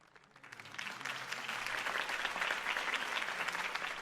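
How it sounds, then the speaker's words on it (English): Applause from a sizable crowd swells in over the first second, then holds as steady, dense clapping until the end. "could have heard that applause"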